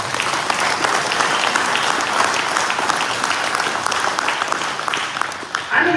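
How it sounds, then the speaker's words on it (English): An audience applauds steadily for several seconds, a dense wash of clapping that stays loud throughout before easing slightly at the end. "Give them a round of applause."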